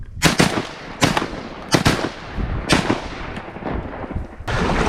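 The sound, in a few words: gunshots while duck hunting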